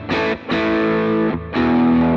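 An electric guitar plays a rhythm overdrive tone through an Axe-FX 3 as three loud, sustained distorted chords, each separated by a brief dip.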